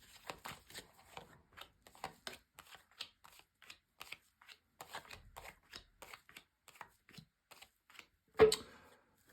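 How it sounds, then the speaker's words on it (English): Tarot cards are laid down one by one on a table, a string of soft, crisp snapping taps close to the microphone, with a louder thump near the end. "I'm going to lay down your 10 cards on the table"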